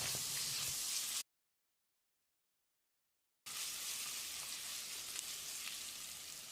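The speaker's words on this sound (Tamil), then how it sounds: "இதில் ஒரு டேபிள் ஸ்பூன் இஞ்சி பூண்டு விழுது சேர்த்து பச்சை வாசனை போகிற அளவுக்கு ஒரு முப்பது செகண்ட் பரட்டி விட்டுடலாம்" Ginger garlic paste with onions sizzles steadily in a pan, a bright hissing fry close by that cuts to silence for about two seconds and then resumes.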